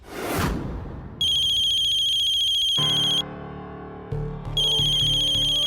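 A telephone rings with an incoming call in a Hindi TV drama scene: a loud, bright electronic ringtone plays in repeating phrases, broken by brief gaps, with no talk over it.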